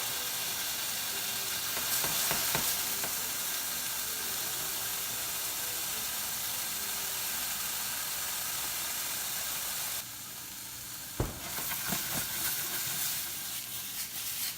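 A pan of sizzling vegetables with alcohol cooking off gives a steady, loud hiss and steam that continue throughout, with occasional brief stirring scrapes.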